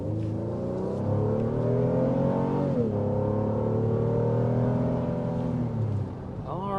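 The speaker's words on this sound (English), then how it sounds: "there's a quick burst of acceleration here in the all-new Pilot" A 2023 Honda Pilot V6 accelerating hard, its engine note loud and close, climbing steadily in pitch with a brief dip around a gear change before pulling on, then easing off at the end.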